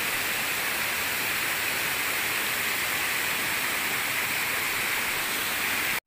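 Water rushes over rocks in a forest stream, a steady, close, hissing wash of sound with no voices, cutting off abruptly at the end.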